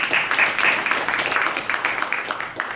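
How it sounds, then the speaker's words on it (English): An audience at a TEDx community conversation claps for a speaker in a fairly close, uneven patter of hands, with a voice or two mixed in. "Let's give Chris Baxter a round of applause"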